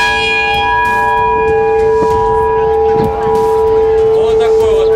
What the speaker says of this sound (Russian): Вот такой вот мелодичный звон нашего колокола.